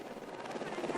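A rescue helicopter of the Spanish GES emergency group hovers during a mountain rescue, its rotor chop and engine a steady, loud, continuous wash that fills the whole clip.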